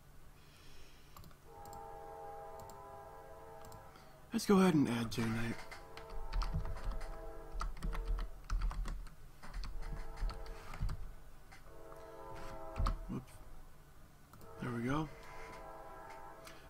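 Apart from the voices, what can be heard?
train passing in the background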